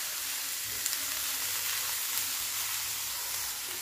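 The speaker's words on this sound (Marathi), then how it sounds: "आता हे दोन्ही एकत्र करून फ्राय करून घेऊया।" Cabbage and carrots frying in a pan as momo stuffing, giving a steady, faint sizzle that carries on evenly throughout with a few soft stirring sounds.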